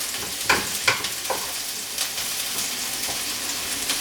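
Chopped onion, already golden and softened, sautés in a pan for risotto, a close steady sizzle broken by several scraping stirs of a utensil.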